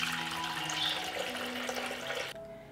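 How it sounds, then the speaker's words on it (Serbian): A liter of cold water poured into a 6-liter pressure cooker, a faint, steady splashing stream that cuts off abruptly near the end. "sipat ću u njega litar hladne vode"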